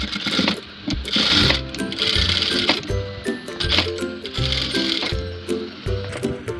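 Sewing machine stitching the sleeve hem of a square-design frock, running in close, loud bursts of rapid needle clatter with brief pauses and fabric handling between them.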